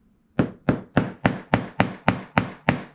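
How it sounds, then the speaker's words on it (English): A small Making Memories hammer strikes a paper notepad spine on a craft table nine times in an even rhythm, each sharp, close tap decaying quickly, with no voices. "Then I'll bring in my little Making Memories hammer."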